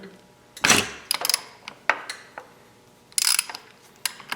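A wrench clicks and ratchets in short bursts while loosening a 13mm bolt on a LEHR 5.0 HP propane outboard motor, with sharp metallic snaps, brief pauses and quiet gaps between strokes.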